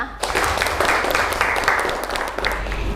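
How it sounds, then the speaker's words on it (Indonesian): Classroom applause from a group of students during a digital microteaching lesson on algorithms, a steady dense patter of clapping lasting about three seconds at moderate loudness, with some voices mixed in. "Tepuk tangan untuk kalian semua."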